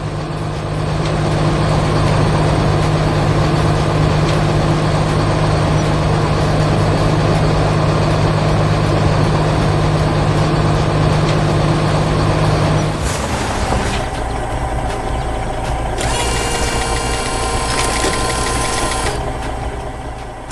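Large construction machines, a trencher and a cable truck laying a power line, run their engines in a loud, steady rumbling drone that shifts to a thinner, higher machine tone partway through.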